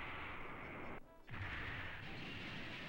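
Eva Unit 2 firing in Evangelion: Ayanami Raising Project, a sustained loud roaring blast that cuts off briefly into silence, then erupts again with a deep boom and continues rumbling.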